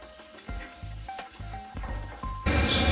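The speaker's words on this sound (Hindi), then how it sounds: "और अच्छे से भून लेते हैं।" Masala for Malvani chicken curry fries in a pan, a steady sizzle broken by repeated scraping strokes of a stirring spoon, growing louder and hissier near the end.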